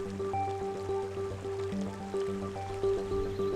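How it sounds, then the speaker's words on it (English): Seething, bubbling mud pots of silica and clay in Yellowstone give off a steady, close gurgling and trickling, like thick water churning and dripping, with a faint continuous tone running underneath. "They mix with what little water is there to form the seething and bubbling mud pots seen here."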